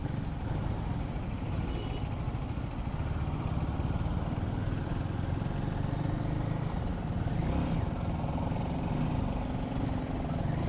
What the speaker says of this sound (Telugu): ఎగ్జాస్ట్ సౌండ్ కూడా నాకు నచ్చింది.